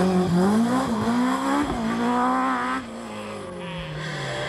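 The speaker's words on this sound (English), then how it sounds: "Ray Green slots his V6 engine Metro into eighth." A V6-engined Metro rally car blasts along a stage at the 1997 Wexford Stages Rally, its engine loud and near with rising and falling revs before the note fades slightly as it moves away.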